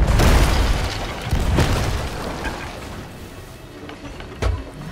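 Cannon fire from a ship in the pirate game Sea of Thieves booms loudly at the start, followed by further blasts and crashing rumble that fade over a few seconds.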